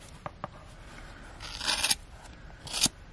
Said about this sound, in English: we're going to take our fairly sharp scissors and we're going to trim the strands along the bottom